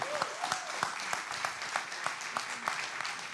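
A church congregation claps in praise during a Bible study, rhythmic, evenly spaced claps in a steady beat over a softer wash of scattered hands, fairly quiet, with faint voices underneath.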